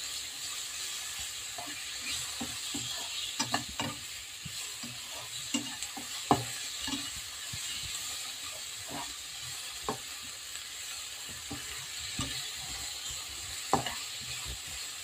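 Onion sautés in oil in a pan with a steady, close sizzle. Scattered scrapes and clicks of stirring break through it, and no one speaks.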